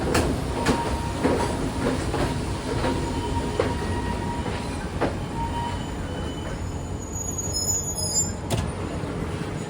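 A night mail train on the Ella to Badulla line in Sri Lanka rolls along near Demodara station, a steady rumble with rhythmic wheel clacks and faint squealing tones, heard from inside the carriage.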